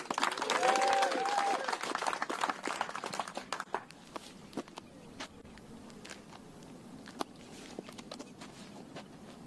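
At a professional disc golf tournament, spectators burst into loud applause after a shot. The clapping starts dense and close, then thins into scattered claps, with faint voices underneath.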